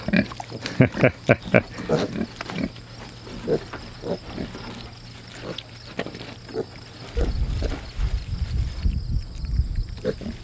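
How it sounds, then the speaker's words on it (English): Idaho Pasture piglets chew and nibble on the rim of a bowl, producing a string of close, irregular clicks and knocks, with a low rumbling noise filling the final few seconds. "they're chewing on the edge of the bowl to get some off."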